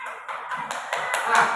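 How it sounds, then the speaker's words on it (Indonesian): Schoolchildren in a classroom clap together in a short rhythmic series of about six or seven claps, close and moderately loud, with a faint voice among them. "Tepuk tangan temannya."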